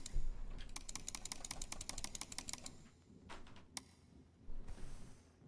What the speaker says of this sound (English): hearing the keyboard sounds and stuff, but hearing the actual keystroke to the key that you're pressing